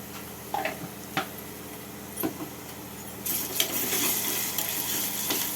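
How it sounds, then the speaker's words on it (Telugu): Ginger garlic paste frying with onions for a ridge gourd tomato curry, a quiet steady sizzle with occasional light taps of a stirring spoon, swelling into a louder, brighter crackle partway through. "అల్లం వెల్లుల్లి పేస్ట్ పచ్చివాసన పోయేంత వరకు కొంచెం ఫ్రై చేసుకొని"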